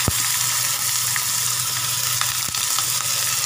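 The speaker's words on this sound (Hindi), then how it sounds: "अब इसमें प्याज डाल देंगे" Onions sizzle steadily in hot oil in a tempering for masala rava idli, a constant loud crackling hiss with a couple of sharp clinks from a utensil.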